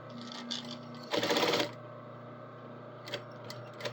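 A sewing machine runs a top stitch in one short loud burst of about half a second, with a steady low motor hum and faint clicks around it, no talking.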